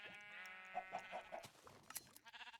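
Sheep bleat repeatedly in a Minecraft-style Craftverse wool farm, several wavering cries in quick succession, followed by short clipped snips of shears near the end, with no talking.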